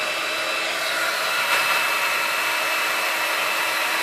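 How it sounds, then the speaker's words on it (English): Embossing heat tool blowing hot air during card crafting, a steady, even whooshing roar held close for the whole stretch with no pauses or voices. "So I'm going to do this a little off camera, so maybe I'm not blasting your ears with my heat tool."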